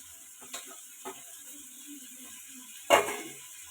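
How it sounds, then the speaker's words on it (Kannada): Tomatoes frying with green chillies in a pan, a soft steady sizzle with a few clattering stirs, one louder scrape near the end. "ಟೊಮೊಟೊ ಹಾಕಿ ಫ್ರೈ ಮಾಡ್ಕೊಳ್ಳೋಣ."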